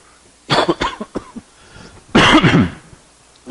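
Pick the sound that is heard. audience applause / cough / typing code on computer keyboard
cough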